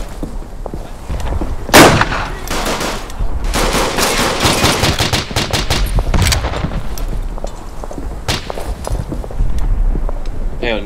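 Gunfire in the First World War shooter game Verdun: loud overlapping rifle and machine-gun bursts with booming reports and rapid rattling volleys throughout, no voices.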